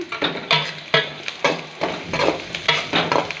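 Onion and garlic sizzle in hot oil with turmeric while a spoon scrapes the pan in a steady rhythm, about two strokes per second, close and fairly loud.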